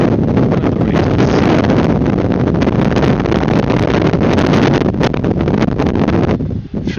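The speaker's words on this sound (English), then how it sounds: "Filming is not a good idea with a lot of wind." Strong wind buffeting the microphone outdoors at Brussels Airport, a loud, constant roaring rumble with gusty crackles throughout, easing slightly at the very end.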